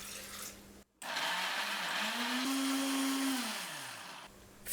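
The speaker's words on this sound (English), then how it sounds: "Blend them with 80 grams of water." A kitchen blender whirs through raw beetroot chunks and water, starting after a brief pause and then holding a loud, steady motor drone whose pitch rises and falls as the load shifts.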